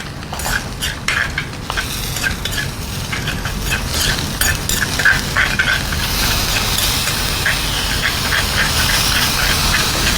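Squid grilling in a pan, with a loud continuous sizzle and sputter, punctuated early on by clicks and clatters of utensils as the pieces are flipped, close and steady throughout.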